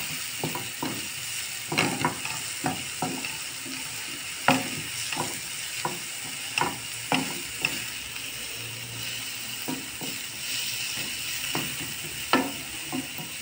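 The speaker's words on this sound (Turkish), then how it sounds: "Pırasalarım kavruldu." Chopped leeks sizzle in a pan under a steady hiss, with repeated close scraping stirs at an uneven rhythm and no voices.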